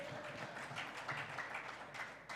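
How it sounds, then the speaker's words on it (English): A brief, fairly faint patter of clapping from a group at an internet governance forum in Rwanda, a short burst of applause. "Let's give them a round of applause."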